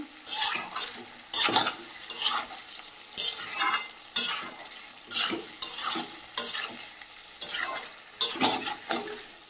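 Meat and capsicum stir-fried together in a pan, with repeated rhythmic scraping and stirring strokes over a light sizzle, close and moderately loud, no talking.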